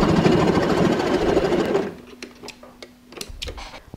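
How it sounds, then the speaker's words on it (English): A domestic sewing machine stitches a loop onto a pleated lined handbag panel, running loudly and continuously at first, then stopping abruptly and leaving a few faint ticks and clicks of fabric handling. "open the loop and go ahead and sew another stitch at the end"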